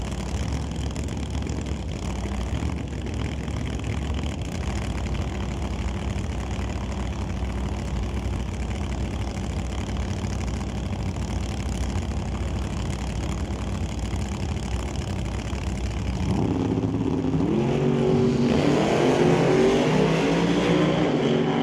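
A 1969 Pontiac GTO drag car with a big block Chevy engine idles in a steady, rumbling burble at a drag strip, then revs up harder toward the end as it launches.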